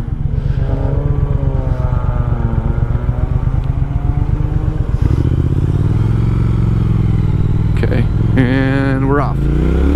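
A 2019 Triumph Speed Twin motorcycle pulls away hard in road mode, its loud, close engine revving steadily and then rising through the gears with a strong, continuous roar, with no talk over it.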